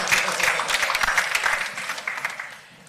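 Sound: audience applause

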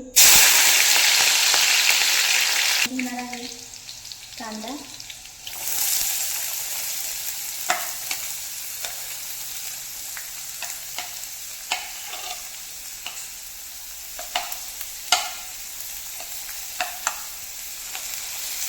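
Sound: green chilies frying in hot oil

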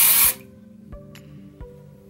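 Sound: dry shampoo spray on hair roots

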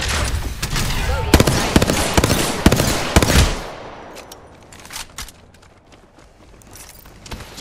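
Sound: gunfire in the video game Apex Legends

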